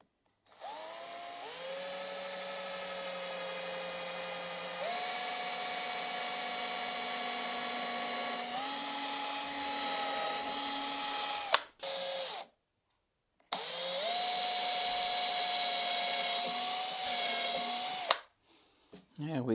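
A power drill bores tuner holes into a guitar neck, its high steady whine rising in pitch in several stages, cutting out briefly twice, then starting again, loud and close.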